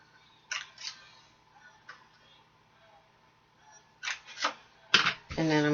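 A corner rounder punches the corners of a paper card flap, giving several sharp, close clicks and snaps spaced irregularly across a quiet background, with a louder crunch near the end.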